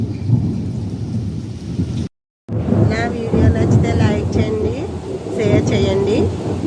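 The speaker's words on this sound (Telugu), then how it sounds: "ఉరుములు చూసారా ఎంత గట్టిగా వస్తున్నాయో" Rolling thunder booms through constant rainfall, with a brief dropout of sound and a voice heard faintly in the background.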